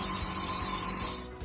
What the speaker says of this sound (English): I spray away from me, more black at the top and less black to the bottom.